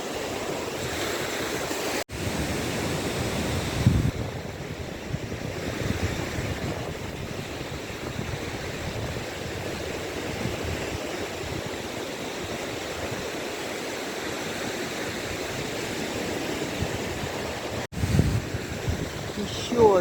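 Waves of the Gulf of Finland wash steadily onto the shore in a continuous rushing surf, with wind buffeting the microphone and brief gusty thumps throughout.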